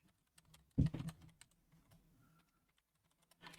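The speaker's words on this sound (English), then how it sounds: "rapidly clicking through his notes" Rapid computer keyboard typing and clicking, close and crisp, with one sharper burst of keystrokes early on followed by lighter scattered taps and a few quick clicks at the end.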